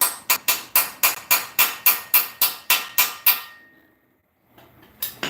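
Sharp metal-on-metal hammer strikes drive an extractor onto a stuck pilot bearing, about thirteen evenly spaced ringing blows in quick succession, then a pause with a faint shuffle at the end.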